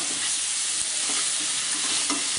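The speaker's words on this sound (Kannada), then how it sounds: "ಈ ಪುಡಿ ಮಾಡಿದ ಹಲಸಿನಕಾಯಿನ ಹಾಕಿ ನಿಧಾನವಾಗಿ ಹಾಕಿ" Grated tender jackfruit stirred in a pan with tempering of urad dal, a steady hiss of frying with soft scraping strokes of the spoon, close and continuous, no voices.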